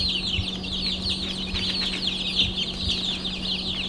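Baby chicks in a backyard coop give a steady, busy chorus of high peeping and soft clucking, close by and continuous, with no talking.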